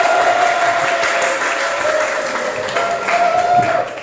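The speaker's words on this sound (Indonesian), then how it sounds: "Tepuk tangan dong semua." A classroom of students breaks into sustained applause, dense continuous clapping from many hands filling the room at a loud, even level for several seconds, with a few faint voices mixed in.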